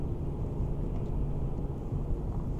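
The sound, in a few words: hybrid car gasoline engine running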